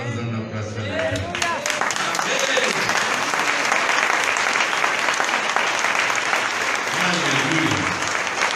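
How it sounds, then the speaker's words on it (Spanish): A church congregation applauds after a baptism, with sustained, dense clapping that swells and holds, and a voice speaking over it at the start and again near the end. "Vamos a dar un aplauso a la Amén."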